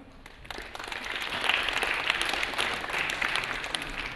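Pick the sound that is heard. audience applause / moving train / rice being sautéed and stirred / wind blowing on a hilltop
audience applause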